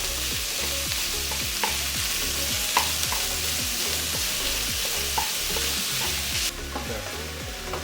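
Chicken sizzles loudly in a hot pan while a utensil stirs and scrapes it in a steady repeating rhythm, the frying hiss constant throughout with no voices.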